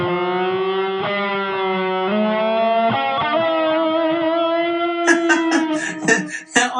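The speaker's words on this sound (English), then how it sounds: "So we turn that down and it slows down that sort of vibrato." An electric guitar runs through a HeadRush delay effect with modulated vibrato, its sustained notes wavering as the modulation slows, while quick echoing repeats trail each pick, loud and close, with no voice.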